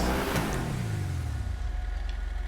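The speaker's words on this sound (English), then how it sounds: "That's what I'm looking for, those backfires." Vapid Caracara 4x4 in GTA Online revving with a loud, close engine roar that drops away, while sharp exhaust backfire pops crackle over the falling revs.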